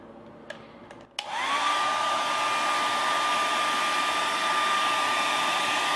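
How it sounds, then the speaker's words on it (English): A hair dryer on high heat blows onto wax to melt it. A few soft clicks come first, then the motor switches on at about one second and runs with a steady, loud whine and rushing airflow until the end. "we're gonna blow the air dryer and like put it on high heat"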